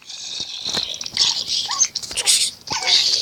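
A tamed wolf dog in the video game Minecraft barks and growls in short, sharp bursts during a fight, close and fairly loud, mixed with game noise and faint speech.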